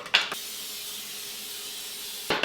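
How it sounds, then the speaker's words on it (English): Water sizzles on a hot pan before chicken is cooked: a short burst of sizzling hiss at the start, a steady faint hiss in between, and another brief sizzle at the end. "I like to grab a rinse of water and just put it on the pan."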